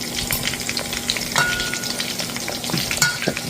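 Jerk BBQ meatballs fry slowly in a pan with a steady, close sizzle and crackle, broken by occasional stirring scrapes and no voices.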